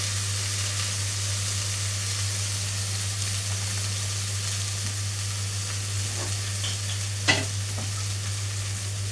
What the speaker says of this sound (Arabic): بما ان ما عنديش شوربه فانا هحط قليل مرقه